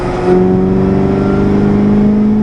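A Corvette ZR1 accelerates in fourth gear under boost, its loud, close engine holding a steady droning tone that climbs gradually in pitch with a whirring edge.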